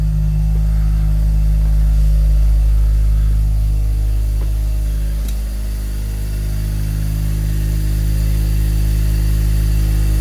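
Mazda RX-7 Turbo II rotary engine idling in midwinter after a cold start from storage, a loud, steady low rumble with a constant drone and little variation.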